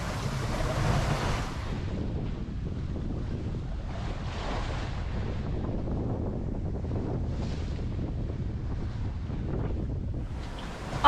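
Ocean swell and steady trade winds during a sailboat crossing of the Pacific, a continuous rushing wash of waves and wind buffeting the microphone, with no voices.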